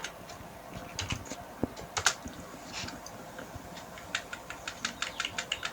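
Keys clack on a computer keyboard in irregular bursts that speed into a quick run of taps near the end, close and fairly quiet, with no talking.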